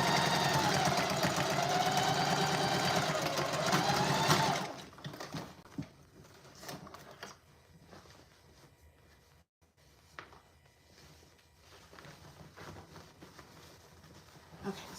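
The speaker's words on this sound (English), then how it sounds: "So just sewing the last corner of the bag, well, of the outer bag." A sewing machine stitches the last corner of a fabric tote bag, a loud continuous whirring run that stops abruptly after about four seconds and leaves faint handling clicks.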